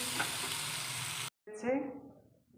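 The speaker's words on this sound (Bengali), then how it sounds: "এই যে আলুর দম বানানো হচ্ছে।" Aloo dum potato curry cooking in a pan, a loud close sizzle and stirring that cuts off abruptly, followed by a brief fading burst of sizzle.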